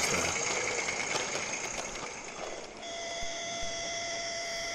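A model train runs on a garden railway, a soft mechanical whir and faint rail clatter with high whining tones, fairly quiet and steady, with no talk.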